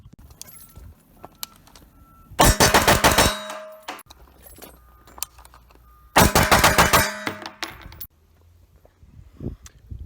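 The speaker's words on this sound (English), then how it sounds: "I just shot 2 volleys of 6 in slow motion with the Sons of Liberty Gunworks NOX at about 6 yards or so at a Charlie size steel target" Two volleys of six rounds from a Sons of Liberty Gunworks NOX rifle striking a Charlie-size steel target about six yards away, each volley a loud rapid cluster of sharp metallic pings, separated by quiet stretches of faint background noise.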